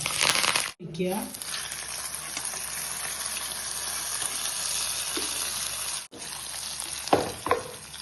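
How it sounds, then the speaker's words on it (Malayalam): Mustard seeds sizzle in hot coconut oil: a loud, continuous frying hiss with scattered pops and spatters, cut by two brief silences, with a few clattering knocks near the end. "അപ്പം നമ്മൾ വെളിച്ചെണ്ണ ചൂടായിട്ടുണ്ട് അതിലേക്ക് ഒരു സ്പൂണ് കടുകിടാം"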